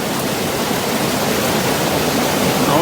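Broadband rushing water from a river in Bryson City, North Carolina, flowing steadily and close by, a loud continuous wash with no voices.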